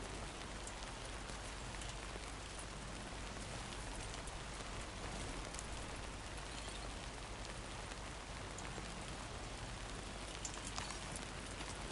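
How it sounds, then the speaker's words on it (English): Steady rain pours without pause across a video-game landscape in Death Stranding 2, a dense, even hiss of drops striking surfaces, close and continuous with no voices. "I don't think this rain's gonna stop."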